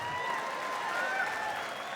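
A stand-up comedy crowd applauds, a sustained wash of clapping and crowd noise that fills the room at even volume throughout.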